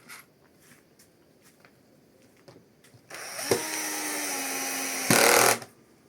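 A power screwdriver driving self-tapping screws into a sandwich panel for a light house frame: after a few faint knocks, a loud steady motor whine runs for about two seconds, then a shorter, sharper burst as the screw seats.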